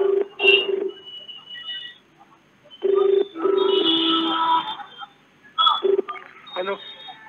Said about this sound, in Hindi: दानिश बेल जा रही है